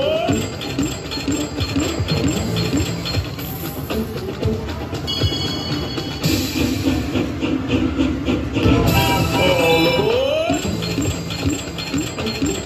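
A slot machine's All Aboard bonus feature, played on nickels in a casino, plays railway effects: a steady rumbling train run with steam hiss and clickety-clack, overlaid with chiming electronic tones and rising jingles, continuous and loud throughout.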